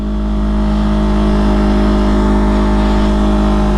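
A 2020 Yamaha R3 motorcycle engine runs close and loud, a steady droning hum that rises slightly as the rider sets off, alone without talk.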